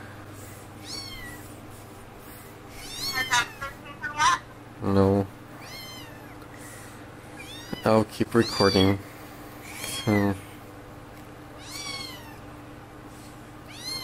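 A cat meows several times in short, separate calls, close by, while people talk over a steady background hum.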